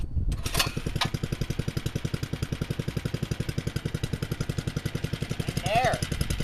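A 2011 Baja minibike engine turns over on its first start attempt, producing a rapid, even train of loud chugging pulses that builds toward catching, with a short sharp squeal near the end.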